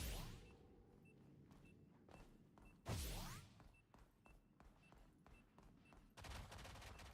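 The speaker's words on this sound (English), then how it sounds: "I hear gunfire already." Bursts of rapid gunfire in a video game with sharp whooshing effects, fairly loud, repeating over a steady background hum.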